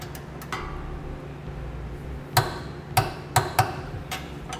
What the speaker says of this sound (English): Now I'll torque down all the bolts on our side plate.